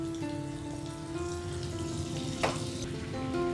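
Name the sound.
butter and olive oil sizzling in a wok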